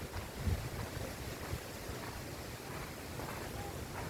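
Wind blowing hard and gusting against the microphone, a faint continuous rumbling rush with a louder buffet near the start.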